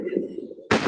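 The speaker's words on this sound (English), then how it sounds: "Fireworks." Fireworks set off outdoors over gravel: a low steady hum, then a sudden loud, close broadband bang that sustains as a harsh crackling burst to the end.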